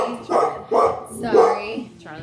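Charlie the puppy barks three times in quick succession, loud and close, then gives a short higher yip, with a person's voice mixed in.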